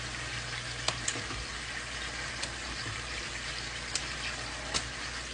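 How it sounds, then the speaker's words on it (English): Sauce for cod piccata bubbling as it reduces in a pan, a soft steady hiss and simmer with a few faint clicks, quiet and unaccompanied by speech. "So we're just going to let it boil down a little bit more so that everything in there is soaking up some of the liquid"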